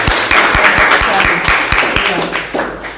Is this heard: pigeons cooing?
no